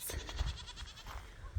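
Goats bleat on a homestead being readied for a freeze, a few short, fairly close calls overlapping in a brief burst.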